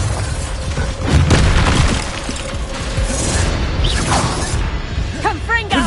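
Bombarda spell explosions in Hogwarts Legacy: heavy booming blasts and crashing debris inside a busy, constant din of game combat effects, with a voice calling out over it.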